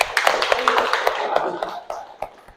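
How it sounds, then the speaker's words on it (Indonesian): A classroom group of students applauds together during a school theater lesson, a dense patter of many hands clapping for a couple of seconds, with a few louder claps and talk mixed in. "Jadi kita tepuk tangan dulu buat kita semua."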